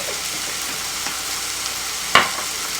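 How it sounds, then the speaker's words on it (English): Food with garlic powder frying in a pan for shepherd's pie, a steady close sizzle with soft stirring scrapes and one sharper clack of the utensil against the pan. "So then let me stir the food while you're doing that."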